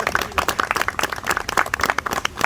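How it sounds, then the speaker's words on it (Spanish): Guests at a birthday party applaud, a close, uneven patter of individual hand claps from a small group with bursty rhythm, fairly loud, with scattered voices underneath. "Aplauso a Ana"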